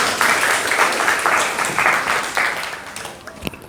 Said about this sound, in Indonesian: Kasih tepuk tangan dulu ya.